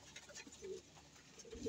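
Racing pigeons coo softly in a short, faint burst, the low murmuring calls close by and unaccompanied by speech.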